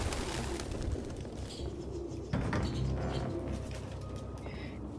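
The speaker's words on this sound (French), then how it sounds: "Aucun humain ne pourrait vivre avec autant de pigeons." Pigeons coo in an attic in Detroit: Become Human, low murmuring calls layered over a dense bed of rustling and fluttering, with a sharper thump midway.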